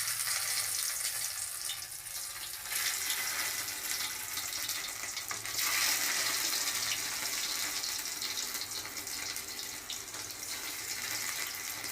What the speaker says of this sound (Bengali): এবারে আমরা পনিরটা ভাজবো।